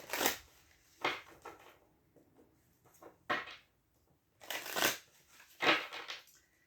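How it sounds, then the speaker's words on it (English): Tarot cards are shuffled by hand in several separate riffling bursts, each a quick papery rush, with short quiet pauses between them and no talking. "One more shuffle."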